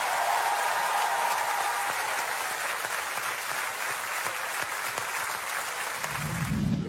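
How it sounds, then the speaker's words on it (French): Studio audience applause on a French TV show after a secret-song segment with a choir, a dense, steady clatter of clapping that runs the whole time, then fades into a low murmur of voices at the end. "Applaudissements pour David Douillet."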